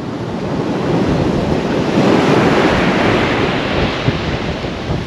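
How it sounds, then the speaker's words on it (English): Strong wind on an East Coast sea-fishing beach at Tunstall buffets a microphone fitted with a wind protector, a steady roaring rumble over the wash of surf, with no voices. "But you're going to get a bit of wind."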